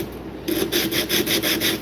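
Rhythmic back-and-forth sanding strokes on wood, close and steady, about seven passes after a brief quiet start.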